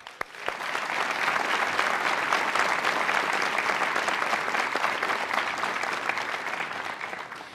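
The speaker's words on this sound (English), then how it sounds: "I think you all deserve a big round of applause." A crowd at a US naturalization ceremony for new citizens applauds steadily, dense hand-clapping that swells quickly after a sharp first clap and holds at an even, full level for several seconds.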